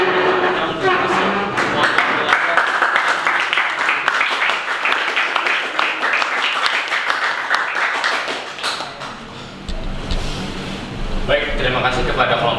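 An audience applauds after a group's research presentation in a hall, a dense, steady patter of clapping that fades briefly before picking back up, with voices talking underneath.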